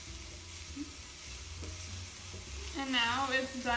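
Hard-boiled eggs sautéing in a pan for egg puffs, with a steady low sizzle and faint stirring. Someone speaks briefly near the end.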